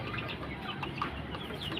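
A lame chicken that cannot stand clucks softly a few times close by, over a low background rumble.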